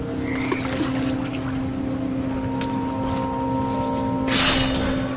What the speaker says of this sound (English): And toads.